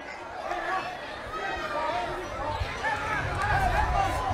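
Nova City under-17 football supporters cheer and chant in the stands at a youth match, a dense crowd roar with babble running steadily throughout.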